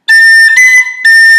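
Tin whistle notes, sharp and tongued, playing A, then F cut onto G: three bright, loud, separate notes close up, each cleanly attacked, with a short breath gap before the last, and no voice.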